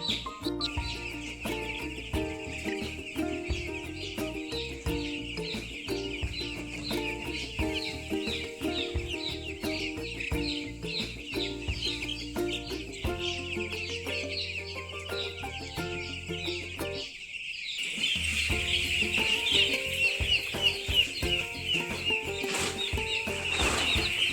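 Young broiler chicks on a poultry farm keep up a dense, continuous chorus of high cheeping and clucking, close and busy throughout, growing louder toward the end.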